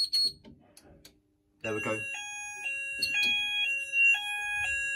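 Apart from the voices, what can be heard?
fire alarm sounder triggered on Syncro AS addressable fire panel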